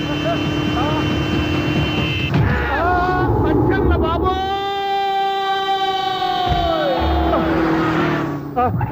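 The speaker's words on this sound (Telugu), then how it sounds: "సైరన్నే కొట్టాడు" A wailing siren rises and falls loudly over street noise and vehicle sounds, with voices around it.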